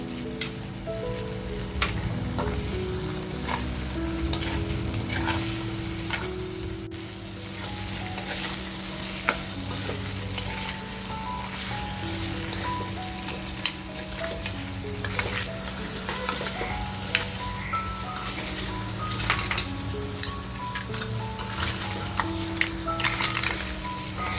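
Crabs frying in masala in a pan for a Malvani crab thali, a steady close sizzle with occasional stirring scrapes throughout, no talking.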